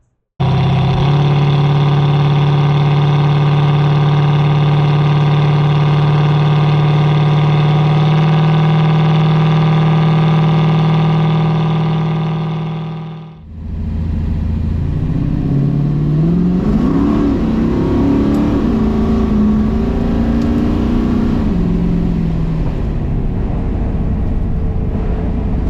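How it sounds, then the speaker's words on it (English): A 1971 Pontiac Firebird Formula 400 holds a loud, steady, deep engine drone, then pulls away with revs rising and falling as it accelerates while driving, heard close and without talk. "We're finally rolling in Dave Marquis' 71 Firebird Formula 400."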